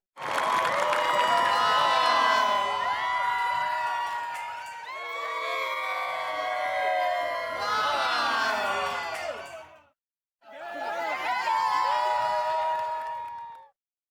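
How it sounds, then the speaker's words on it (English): A wedding party lets out joyful screams and cheers, loud overlapping shrieks and whoops in two long bursts, broken by a brief silence before the excited shouting resumes. "using joyful screams"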